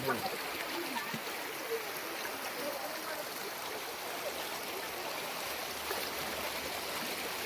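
Flooded stream swollen by continuous rain near Ambajogai, a steady broad rush of flowing water heard from nearby, with people talking over it.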